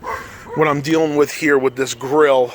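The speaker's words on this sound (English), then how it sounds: "you can hear my neighbor's dog barking in the background" A neighbor's dog barks and yips in high, whining bursts in the background while someone talks over it in the foreground.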